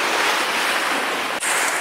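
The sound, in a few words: seawater surging into Mermaid's Grotto, Okinawa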